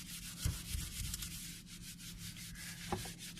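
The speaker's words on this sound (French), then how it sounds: "On frotte, on frotte, on frotte." A stainless steel sink scrubbed with a silver cleaning stone, a close rapid rasping rub in quick back-and-forth strokes with a couple of soft knocks.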